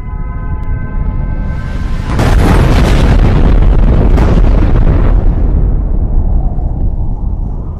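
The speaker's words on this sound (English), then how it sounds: "Hezbollah and Hamas launch scores of missiles into Israel." Missile explosions: a loud, sustained roaring boom builds after about two seconds and rumbles on for several seconds before slowly fading, heavy and deep, with no talking.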